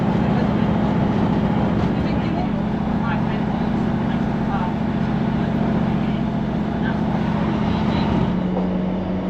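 Inside a passenger train on a railway line, a steady low rumble and hum of the carriage runs throughout, loud and unbroken, with faint rattles and no clear pauses.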